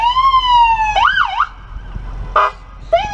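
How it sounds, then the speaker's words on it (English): A Ducati SPS Raptor off-road siren blares close and loud, starting with a long held tone, then a warbling wail and short bursting yelps. "And then here's the siren."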